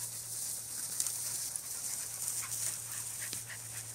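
Two eight-week-old Norwegian Elkhound puppies pant softly nearby and let out a few faint whimpers over a steady background hum.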